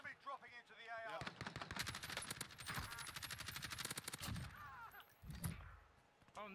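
Warzone battle royale gunfire with rapid bursts of automatic weapon shots crackling for several seconds at close to mid range, mixed with voices.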